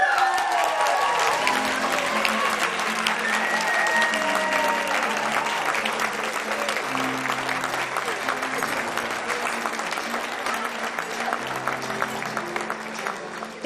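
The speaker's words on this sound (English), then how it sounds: "let's carry her up to stage on a wave of applause" Awards-ceremony audience applauding a winner heading to the stage, a long sustained roar of clapping with music playing underneath, steady and full before gradually easing.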